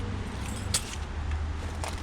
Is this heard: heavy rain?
no